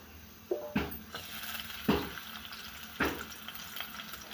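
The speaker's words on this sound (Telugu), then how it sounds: "ఇప్పుడు మనం ఇందులోనే ఆనియన్స్ వేసుకోవచ్చు" Chopped onions hit hot oil in a kadai on a stove, giving a few sharp sizzling bursts that settle into a soft, steady frying hiss, fairly quiet and with no talking.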